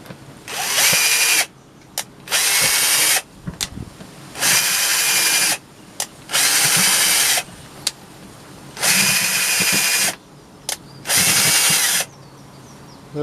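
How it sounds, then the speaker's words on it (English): A handheld power drill bores drainage holes into the bottom of a plastic bucket, whining in about seven separate bursts of a second or so each, with brief quiet pauses and small handling knocks between them. "It's one of my first jobs, just to make a few holes with this drill"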